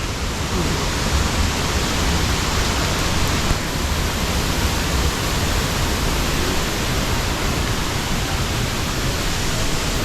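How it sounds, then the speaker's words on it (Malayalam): A forest waterfall roars from its top at Kadavpuzha–Anchumala, a loud, unbroken broadband rush of falling water filling the whole scene without a break. "അപ്പം നമ്മൾ ആ വെള്ളച്ചാട്ടത്തിൻ്റെ മണ്ടയിലെത്തിയിരിക്കുകയാണ് ഇവിടെ നിന്നാട്ടോ ആ വെള്ളം ചാടുന്നത്"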